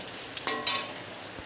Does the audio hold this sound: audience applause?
no